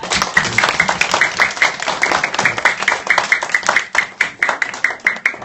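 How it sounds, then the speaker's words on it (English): A small audience claps for a career day presenter, steady fairly close clapping lasting several seconds with no talk over it. "Let's give her a round of applause."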